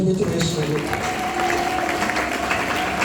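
Congregation at a worship service clapping and cheering in praise of Jesus, a steady dense wash of applause with voices mixed in throughout.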